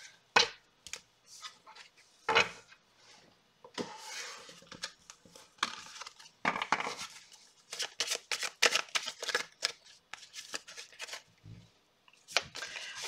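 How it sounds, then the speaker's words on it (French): Golden Lenormand cards being shuffled by hand for a fortune-telling reading, giving a run of quick papery riffles and flicks with short pauses, close and fairly loud, with no one talking. "On va faire un tirage petit Lenormand."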